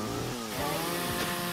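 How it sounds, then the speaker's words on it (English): A chainsaw in a modded video game roars steadily, its engine pitch rising and dipping as it revs, loud and continuous throughout. "Why do I have a chainsaw?"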